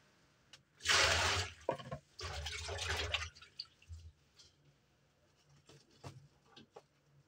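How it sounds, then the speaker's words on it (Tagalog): Hands being washed outdoors before preparing coconut milk, splashing water in two short bursts followed by scattered drips and light patter, close and fairly quiet. "Hugasan ng mabuti ang kamay"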